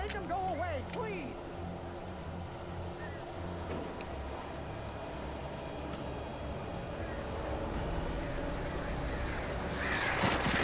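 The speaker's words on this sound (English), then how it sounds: "These birds are weird." Crows caw in the Alan Wake video game, a few harsh calls early on over a steady low rumbling game ambience, with a voice speaking.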